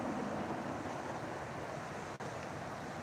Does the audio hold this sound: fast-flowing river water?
yes